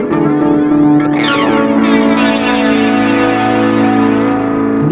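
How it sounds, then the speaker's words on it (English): Live electric guitar run through a delay effect in DP8, a loud sustained chord with a bent note and repeating echoes trailing behind it, played alone. "Now for a bit of delay."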